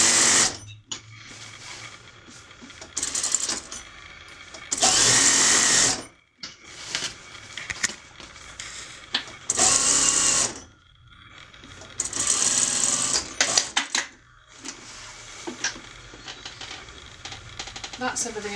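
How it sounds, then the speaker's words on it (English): A sewing machine straight-stitches cotton curtain fabric in several loud, close runs of rapid mechanical chatter, each a few seconds long, separated by quieter pauses with handling noise and someone talking. "both fabrics are cotton, so we should be fine to go for straight stitching in either direction"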